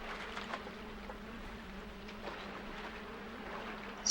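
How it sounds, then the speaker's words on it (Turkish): Flies buzzing faintly around a person while they play a game, a thin steady drone wavering under low background hum, with a brief louder noise at the very end. "Sinekler uçuşuyor üstümde."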